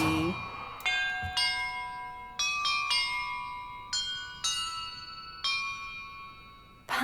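Several bells ring one after another in a Hogwarts Legacy puzzle, each clear, bright strike sustaining and decaying into the next, about eight in an uneven sequence.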